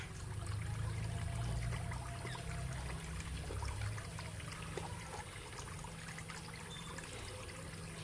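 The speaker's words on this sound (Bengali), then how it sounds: "আজকে গামলায় বসে বসে স্নান করছে" Water trickles and pours steadily while a dog is bathed sitting in a tub, a close continuous dribbling stream over a low hum.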